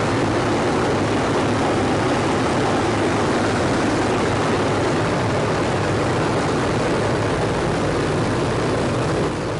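A Hawker Hurricane propeller engine in a flight simulator game roars in a loud, continuous, broadband drone with a low throbbing undertone that holds steady without a break.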